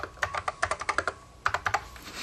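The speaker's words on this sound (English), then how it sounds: "be able to grab the keyboard and write a note to yourself" Someone types on a computer keyboard in short bursts of crisp clicks, about a dozen keystrokes in two clusters separated by a brief pause, close and fairly quiet.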